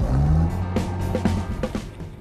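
A vintage Amphicar amphibious car drives off on land, its engine note low and steady with a few louder bumps and clunks, close to the microphone.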